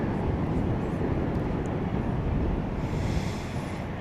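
An airliner landing at night at DFW Airport gives a broad, steady roar with wind buffeting on the microphone, fairly loud and unbroken.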